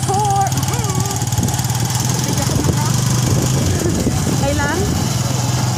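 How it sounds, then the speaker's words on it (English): A motorcycle engine hums steadily and loudly throughout a ride, with people talking over the running engine. "nakasakay na ako sa motor"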